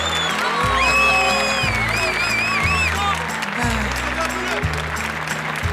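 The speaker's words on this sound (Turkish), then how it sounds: "Alkış, alkış." A studio audience claps on a Turkish TV comedy set, a steady wash of applause beneath bright, stepping theme music.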